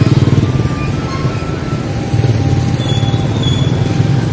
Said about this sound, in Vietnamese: Ồ, xe máy.